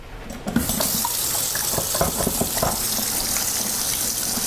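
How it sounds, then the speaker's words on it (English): Hands washed under a running kitchen tap while cooking fried chicken: a steady loud gush of water into a sink, broken by splashes and rubbing as the hands move through the stream. "I'm gonna wash my hands."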